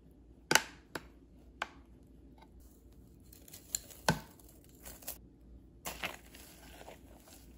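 Sharp, isolated cracks and snaps of brittle honeycomb toffee being chopped, spaced irregularly with quiet gaps between the cuts.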